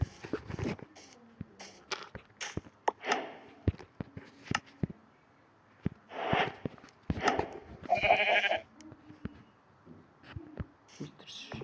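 Scattered sky-survival video game sounds with a few bleating sheep calls, brief and moderately loud, mixed with clicks and thumps and a voice now and then.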